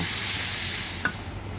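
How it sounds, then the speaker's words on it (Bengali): Steady broadband hiss of onions frying in hot oil, continuous and fairly close, with a brief faint clink near the end. "এদিকে আমার পেঁয়াজটা তেলে ভাজছি"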